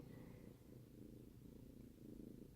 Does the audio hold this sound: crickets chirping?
no